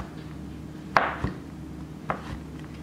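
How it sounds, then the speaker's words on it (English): Andes creme de menthe thins being chopped into small pieces with a knife on a board: a few sharp, separate chops spaced apart, fairly close and clear over a quiet background. "So I'm just chopping them into little pieces."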